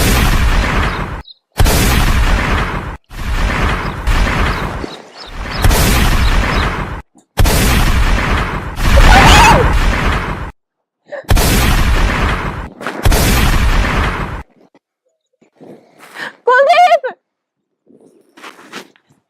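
Staged war-scene battle in a Haryanvi drama: about eight loud, booming bursts of gunfire and explosions, each a second or so long, separated by brief gaps, then fading to faint scattered sounds near the end.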